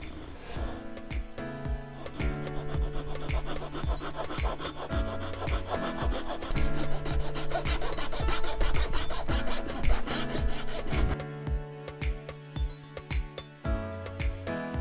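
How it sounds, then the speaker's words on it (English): Hand cutting of laminated plywood with a fine-toothed razor saw for an RC plane wing mount, steady rhythmic back-and-forth rasping strokes, close and fairly loud, with no talking. "use my friend the razor saw and try to cut this as straight as I can"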